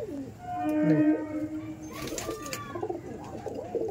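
A young pigeon cooing softly nearby, a low throaty coo followed by brief rustling and faint background chatter.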